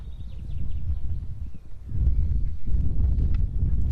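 Polo horses gallop across the field during a Nations Cup match, hooves thudding in a loose rapid rhythm over wind and low rumble, moderately close and growing heavier midway.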